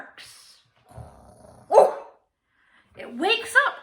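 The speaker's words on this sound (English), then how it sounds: "The dog barks." A dog barks in a few short, sharp bursts, separated by quiet gaps, close and fairly loud, with voice-like sounds mixed in.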